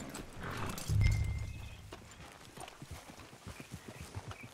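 Horse hooves clopping in the open-world western game Red Dead Redemption 2, a loud heavy thump near the start followed by a steady run of soft, rhythmic hoof beats.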